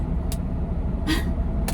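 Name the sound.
old 1997 lorry engine while driving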